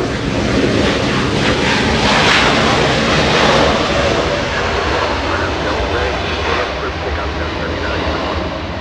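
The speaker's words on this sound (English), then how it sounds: "United 682 flying in from San Francisco." A United Boeing 737-900 jet arriving from San Francisco makes a loud, sustained engine roar with a rushing, wind-buffeted quality, swelling slightly and then easing as it passes.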